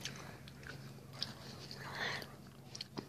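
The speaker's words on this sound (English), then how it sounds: "Tasting ice cream. Ice cream from Itty Bits." Cotton candy ice cream being eaten up close, soft wet chewing and smacking sounds, very quiet and intimate, with a faint low hum underneath.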